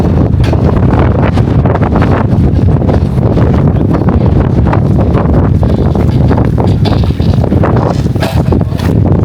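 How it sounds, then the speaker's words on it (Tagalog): Strong mountain wind at the top of Innsbruck, Austria, buffets the microphone in a loud, continuous roar with rough gusting rumble throughout and no speech. "Grabe ang hangin."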